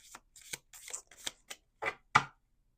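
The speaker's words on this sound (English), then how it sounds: "Let's do one more shuffle." A deck of Lenormand cards being shuffled by hand, a run of quick, crisp riffles and slaps in short bursts, close and fairly quiet against a silent background.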